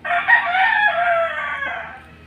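A six-month-old golden boy sweater gamecock stag crows once, close and loud, in a single drawn-out call that trails off at the end.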